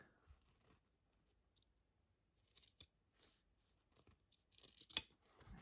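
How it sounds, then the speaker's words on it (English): Scissors snip the corners of a seam allowance on fabric while sewing a small project, a few quiet close cuts spaced across a soft background, with one sharper snip near the end. "Now what we want to do is go ahead and trim these corners."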